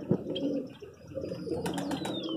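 Pigeons on a rooftop coo softly and steadily, with brief chirps and a thin whistle-like tone near the end, close and continuous.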